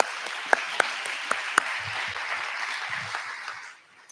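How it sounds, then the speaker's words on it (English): Audience applause at a small-business pitch night, a sustained wash of clapping with a few sharp, close claps standing out early, fading out near the end. "Let's give them another round of applause."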